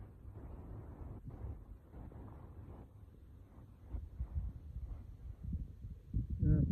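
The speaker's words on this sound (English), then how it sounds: "It's a bit windy now" Low, gusty wind buffets the microphone beside beehives in uneven rumbling bursts, growing stronger toward the end, with no speech.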